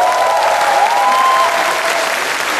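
Dense, loud applause from a concert audience at a community orchestra performance, steady and sustained throughout, with a faint sustained tone running beneath the clapping.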